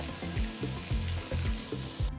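Steady sizzling of chopped potatoes sautéing in hot oil, with rhythmic scraping and knocking from stirring in the pan.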